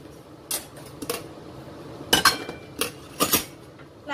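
A spatula scrapes and clanks against a metal wok while vegetables, macaroni and chicken are stirred for a Filipino cream soup, giving a handful of sharp, close metallic clinks spaced irregularly with no talking.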